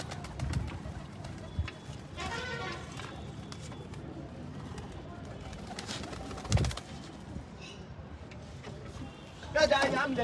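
Pigeons coo softly and repeatedly inside a pigeon room, close and low, while people talk over them, with occasional fluttering and shuffling near the end.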